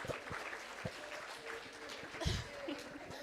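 Participants at a meeting clap together in a scattered round of applause, sharp hand claps under faint chuckles and background talk.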